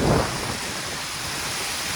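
Steady night rain in Bangkok hisses close by with a brief low rumble of thunder at the start, a continuous wash of noise with no voices.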